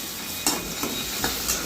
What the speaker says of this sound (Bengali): পেঁয়াজ দিয়ে টমেটোটা ভেজে নিলাম